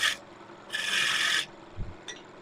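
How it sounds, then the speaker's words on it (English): A tool cleans up the end of a wooden bowl spinning on a woodturning lathe in two rasping scrapes, the second longer, followed by a soft knock, close and alone. "clean up the end here where the bowl gouge cut through the surface."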